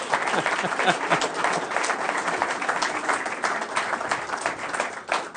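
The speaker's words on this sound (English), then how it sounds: "Oui, on peut applaudir, Monsieur le ministre de l'Environnement." Applause from the audience at a joint appearance of the Ontario and Québec premiers, celebrating a historic agreement: dense, steady clapping from many hands, close and fairly loud, lasting the whole stretch.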